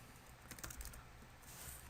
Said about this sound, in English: now we're going to move on to where you're actually typing the code